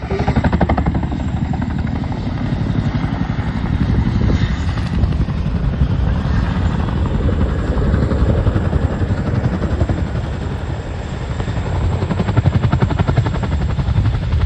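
Chinook twin-rotor helicopter at an air display, a loud continuous thudding rotor beat over steady turbine engine roar, close and unbroken throughout.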